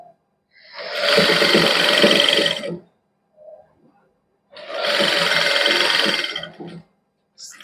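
A sewing machine stitches white lace onto a palazzo in two long, steady runs of motor whir, each a few seconds long, separated by a short quiet pause, loud and close with no talking.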